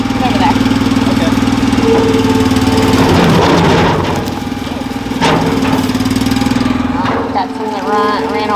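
A chainsaw engine runs loudly and unevenly, idling with a buzzing rattle; short bursts of voices and clanks break in near the end.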